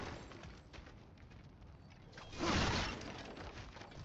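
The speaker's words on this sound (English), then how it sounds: "back to smashing through things for fun and profit" Objects smashed apart in God of War Ragnarok, with a steady crunching, rattling clatter that swells into a louder burst of breaking debris midway before settling back to a dense rumble.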